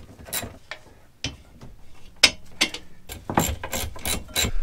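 A ratchet clicks in short, irregular bursts while the rear shock is fitted and tightened on a Rieju Marathon 125 motorcycle, close and crisp, with sparse metallic clacks of tools between the bursts.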